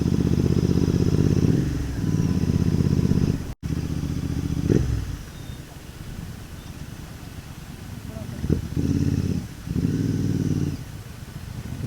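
Motorcycles, a Royal Enfield GT 650 and a KTM Duke 390, idle and rumble loudly in bursts with pauses, engine drone dropping away between and returning near the end, with brief clatter.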